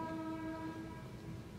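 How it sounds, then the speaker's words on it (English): A distant train horn sounds as a long, steady tone over a low rumbling rail background, fading slightly toward the end. "Looks like we got another train going by."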